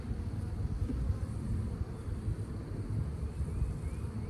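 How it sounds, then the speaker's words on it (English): Dense, steady buzzing of a crowd of honeybees at an open hive, close and continuous throughout with a low droning hum and no voices. "A whole lot of bees"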